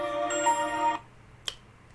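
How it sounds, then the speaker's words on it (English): A mobile phone ringtone plays a bright tonal melody for about a second, then cuts off, followed by near silence and a single small click. "that was my phone going off"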